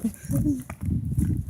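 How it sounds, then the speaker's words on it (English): A dog barking a few times in quick, close yelps, with voices talking over it. "Why are you still barking?"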